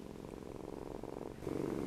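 A close, continuous cat purr, a low vibrating rumble that grows a little louder toward the end.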